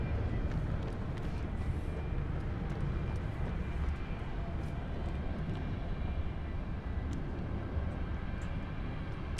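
Jet airliner engine at London City Airport before departure, a steady broadband roar and hum held evenly throughout with no clear rise, distant and continuous.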